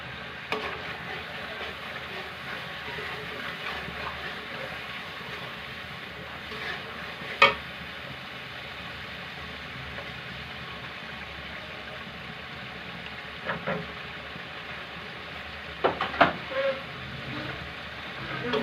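A paste of ground ginger, onion and garlic sautés in a pan, giving a soft, steady low sizzle with a few brief clinks of stirring scattered through.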